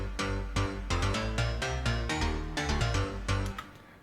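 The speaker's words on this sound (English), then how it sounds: "So the bass sounds like this." Punchy, tightly rhythmic electronic bass line from a remake, with repeated plucked low notes and sharp attacks in a steady groove, loud and alone without voices.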